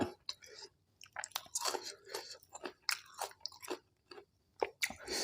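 Close, crunchy chewing of som tam papaya salad with fermented fish, in irregular bursts of bites and mastication separated by brief quiet gaps.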